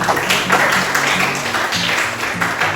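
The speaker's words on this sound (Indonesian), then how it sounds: "Ya betul, tepuk tangan." Students applaud in a classroom, a dense, steady wash of many hands clapping together with a low hum underneath.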